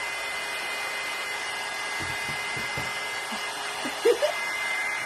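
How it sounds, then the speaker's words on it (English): A hair dryer blows steadily at close range, a constant airy whir used to dry paint on a patriotic table decoration, with a few faint knocks and rustles over it. "I'm gonna hit it with the dryer now, and all my little pieces are gonna go flying around"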